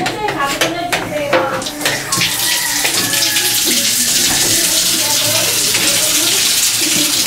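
Water gushes steadily from a tap or pipe in a house bathroom, a loud, continuous splashing rush that fills the clip, with voices talking briefly over the start.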